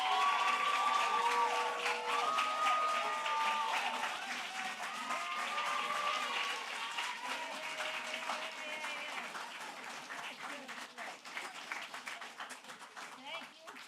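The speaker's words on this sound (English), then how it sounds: "I want the teachers to stand up and let's applaud." Audience applause for teachers at a youth entrepreneurship challenge event, steady dense clapping from a large crowd filling the room, loud at first and gradually thinning, with some cheering mixed in.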